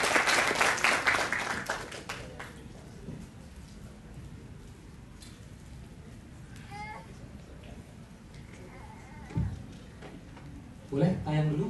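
A burst of audience clapping at an Indonesian talk event fills the first couple of seconds, then fades into a quieter room with voices talking.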